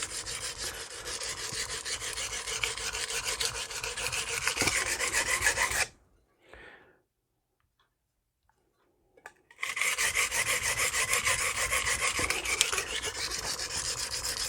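A Magnacut 8-inch chef's knife is drawn across a coarse Norton Crystolon silicon carbide stone, giving a steady, close, gritty rasping scrape that stops for a few seconds of near silence, then resumes.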